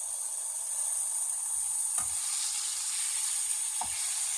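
Goose or duck internal organs frying for paella, a loud continuous sizzle close up with two brief stirring scrapes in the pan and no talking.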